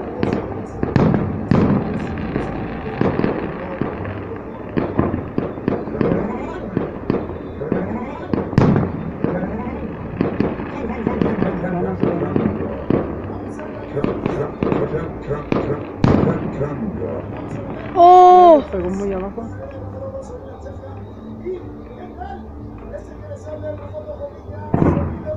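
Fireworks shells bursting during a castillo burning at a town festival in San Miguel Ameyalco, a dense run of loud booms and crackling pops through the whole stretch, with a whistling shell near the end and voices talking in the crowd.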